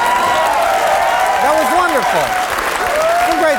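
A studio audience applauds steadily throughout, a dense wash of clapping with a brief spoken word over it.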